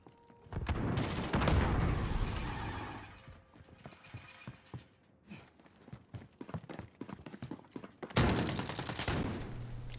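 Call of Duty gunfire, a long dense burst of rapid shots up close, then a run of quick separate shots and mechanical clicks before another heavy burst near the end.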